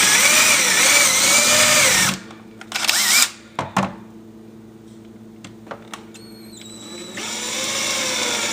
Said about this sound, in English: As you can see, it's pretty easy to drill through that.